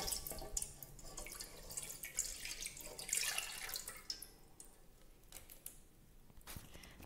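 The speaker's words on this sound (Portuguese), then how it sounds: "Eu vou estar colocando aqui nessa panela os 600 ml de água" About 600 ml of water is poured from a cup into a cooking pot, a close, uneven splashing and trickling that tapers off with a few drips at the end.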